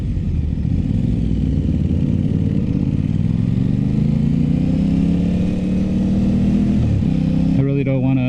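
An Aprilia RS 660 sport motorcycle engine hums steadily under light throttle, the pitch gradually rising, then a sharper blip of revs near the end; loud and close.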